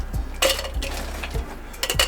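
A metal cocktail shaker, standing in for a mixing glass, is handled with a few sharp clinks and knocks against glass and metal, close by with no voices.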